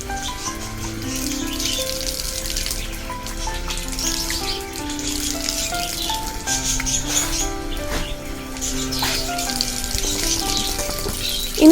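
Running water splashes steadily over a German Shepherd's paws as she washes her feet, with a continuous close trickle under a layer of steady tonal background sound.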